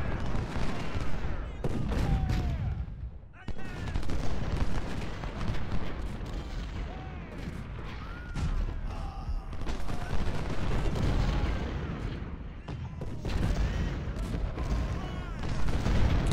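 Artillery and musket fire booms across a Civil War battlefield in Ultimate General: Civil War, with repeated heavy blasts and crackling volleys over a steady din, and someone speaking German beneath them.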